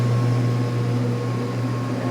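A washing machine on a delicate slow spin hums low and steady, a constant mechanical drone with a faint whir layered above it, close and uninterrupted with no voices.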